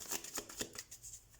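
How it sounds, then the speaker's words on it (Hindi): Tarot cards being shuffled by hand: a quick series of soft papery riffles and slaps, about five close, light bursts in a second and a half, with no talk. "तो सबसे पहले हम कार्ड शफल कर लेते हैं।"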